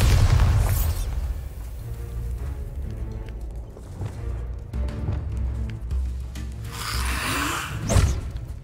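Bombarda blast spells in Hogwarts Legacy: a heavy boom at the start, then scattered thuds and crackles of combat, with a second sharp burst near the end, all without speech.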